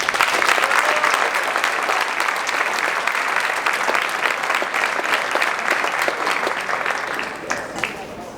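Audience applause at a high school college signing ceremony, a steady crowd clapping that fills the room for about eight seconds before easing slightly at the end.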